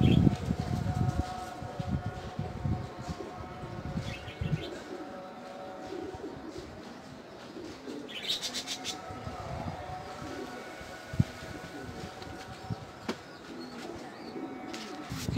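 Pigeons cooing outdoors, low throaty coos repeating over steady ambient background, with a brief flutter of wings as birds come down to land.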